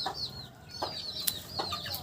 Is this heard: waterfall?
no